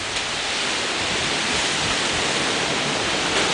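Strong gusting wind from Hurricane Paloma tears steadily through trees in the Cayman Islands over flooded streets, a dense, continuous roar close to the microphone with no voices.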